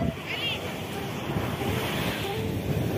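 Ocean surf and gusty wind at Pantai Senok beach in Kelantan roar continuously, with the wind buffeting the microphone and a faint brief whistle or call early on.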